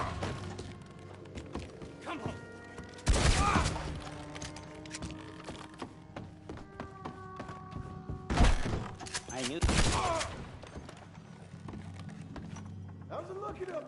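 Gunfire from the Red Dead video game, with two loud sharp bursts of shots amid scattered thuds and clatter, and quieter background sounds in between.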